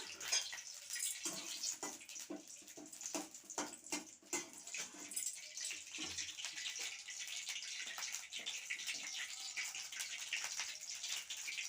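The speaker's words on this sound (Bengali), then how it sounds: "তেল দিয়ে একটা এই যে তেজপাতা দিয়ে দিলাম" A bay leaf frying in hot oil in a wok for potato curry, producing a faint continuous sizzle and crackle with scattered spattering pops, with no talk.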